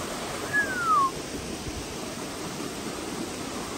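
Steady broadband rush of river water flowing near the bank, continuous and moderately loud, with a brief faint chirp early on and no talking.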